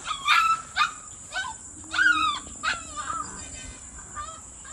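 A village dog is caught by hand, giving repeated sharp barks and yelps in an irregular run of bursts, fairly close, over a faint background hum with no talking.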